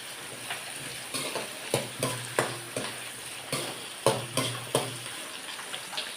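Onions sizzle in a pan at moderate volume, broken by a series of sharp scrapes and clacks as a spoon stirs them.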